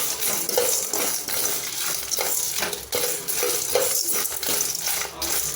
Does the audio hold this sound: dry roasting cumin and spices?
yes